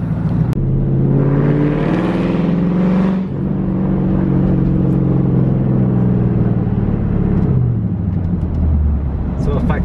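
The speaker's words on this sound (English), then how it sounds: "Bro, the car's hella loud, bro." The loud engine of a young driver's new manual car revs and drones steadily up close, its pitch climbing and dropping with gear changes, while people talk over it.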